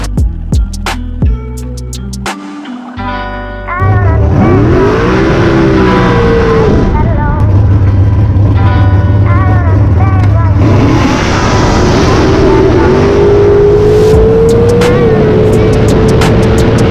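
Bracket drag racing car at Beaver Springs launching down the strip, engine roaring loud and close with rising revs and gear changes, a few clicks and thumps before the launch.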